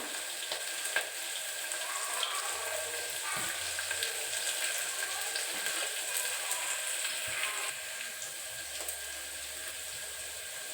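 Chopped onions fry with a steady, close sizzle as green chillies go in for biryani, with faint stirring scrapes and occasional low knocks underneath the continuous crackle.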